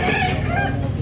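At a Cebu poultry market in Carbon, a rooster gives a short, strong crow with a wavering, slightly falling pitch, close by, over a dense bed of background market noise.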